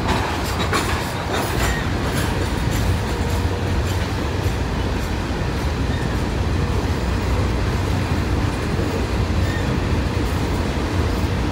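A CSX freight train rolls past close by, a loud continuous rumble with rhythmic clickety-clack of wheels over rail joints lasting the whole stretch.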